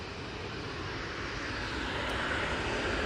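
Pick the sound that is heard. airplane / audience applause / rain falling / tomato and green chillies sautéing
airplane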